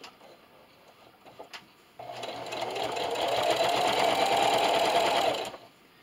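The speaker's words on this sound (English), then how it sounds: "I'm going to sew all the way down." A sewing machine fitted with a walking foot runs a steady straight stitch down a quarter-inch seam on a quilt-as-you-go table runner, starting after a quiet pause, humming continuously and close for about three and a half seconds, then stopping.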